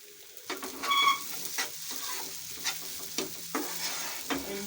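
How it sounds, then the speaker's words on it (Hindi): A spoon stirs potato spring roll stuffing in a pan, with repeated scraping strokes in an uneven rhythm over a faint sizzle, close and moderately loud with no talk. "और इन सब चीज़ों को भी अच्छे तरीके से मिक्स कर लेते हैं"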